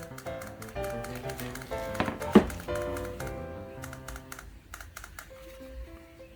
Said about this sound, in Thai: วันนี้ปรับแสงใช้ปุ่มนี้นะครับใช้ปุ่มลบกับปุ่มบวกนะครับ